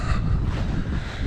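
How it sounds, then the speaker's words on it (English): Wind buffets a GoPro Hero 9 Black microphone beside the Great Miami River, loud low rumbling gusts that roar close and continuous, with no speech. "it's pretty windy today, like it was last time"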